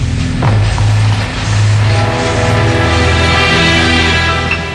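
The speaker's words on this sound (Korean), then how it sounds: "같은 날 한 급행열차가 독일에서 스위스로 가고 있다." An express train running from Germany to Switzerland rumbles steadily and loudly, with low tonal hums and rolling rail noise sustained throughout.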